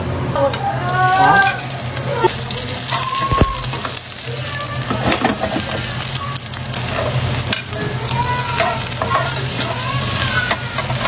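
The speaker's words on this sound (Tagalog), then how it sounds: "Nagluluto lang si Mami." A mother fries and stirs food in a pan in a home kitchen in Bicol, with a steady sizzle and scraping stirs throughout and voices talking over it.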